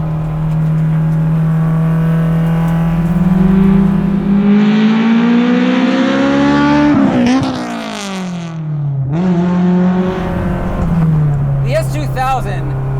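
A Honda S2000 time attack car revs hard, its engine pitch climbing steadily then dropping and rising again, loud and close, with a sharp blip between pulls and a voice faintly underneath.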